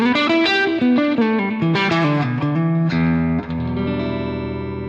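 A clean electric guitar with slight grit, played through a subtle boost pedal, plays a quick melodic run, then lets a chord ring out, loud and close with a touch of reverb.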